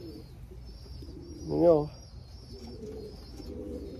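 A racing pigeon gives a single soft coo inside a loft, brief and fairly close, over a steady low background hum and faint high whine.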